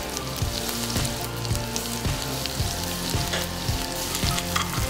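Chopped garlic and ginger frying in a kadhai for Punjabi chhole, a steady close sizzle with regular soft scraping strokes from stirring, no voices.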